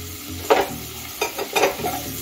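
Chopped garlic and ginger frying in a pan over medium heat, a low sizzle broken by three scraping stirs of a utensil against the pan.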